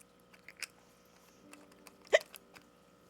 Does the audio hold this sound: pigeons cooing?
no